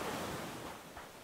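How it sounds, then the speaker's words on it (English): Water laps in the video game Hokko Life, a soft, wave-like wash of noise that swells and recedes faintly over a second, with no voices. "I like the sound of the water."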